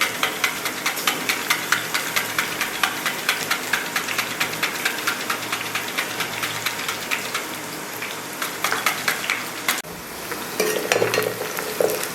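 Slices of raw banana frying in hot oil to make chips, a loud continuous sizzle and bubbling crackle close by, steady throughout with occasional stirring, no voices.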